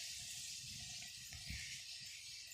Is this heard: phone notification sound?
no